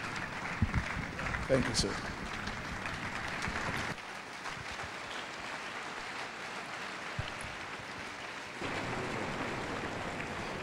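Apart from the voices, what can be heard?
audience applause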